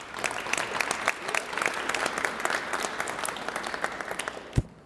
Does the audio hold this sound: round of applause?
yes